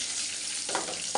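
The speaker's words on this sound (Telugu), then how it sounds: "తాలింపు ఫ్రై అవుతుంది." Curry leaves and tempering spices sizzle in hot oil for a cucumber dal, a close, steady frying hiss with a couple of sharper spits near the end of the brief burst.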